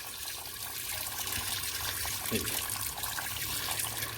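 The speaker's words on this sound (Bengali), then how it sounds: "এই গাছটাকে আমি তোলার পর এটাকে ভালো করে আমি ওয়াশ করে নেবো" Water running over and rinsing the roots of an uprooted adenium plant during repotting, a steady trickling wash that holds at a fairly even level throughout.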